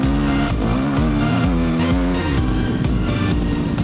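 Enduro motorcycle engine revving hard through a corner, a loud buzzing two-stroke-like whine rising and falling in pitch over a few seconds, close to the microphone.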